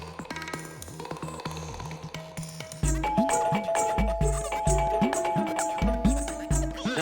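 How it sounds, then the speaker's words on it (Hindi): A doorbell rings over and over at a home, a run of bright repeated dings that turns into rapid, insistent ringing partway through. "फायर ब्रिगेड की घंटी की तरह क्या टनन टनन बेल बजा रहे हो"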